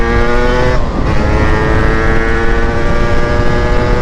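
A vehicle accelerates hard on a racing circuit, its engine a steady, loud, close drone that dips briefly near the start and then holds a sustained high-revving tone.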